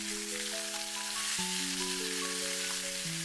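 Yellow croaker fillets pan-frying in a wok give a steady, continuous sizzle, partly buried under prominent melodic background music with sustained tones and no talking.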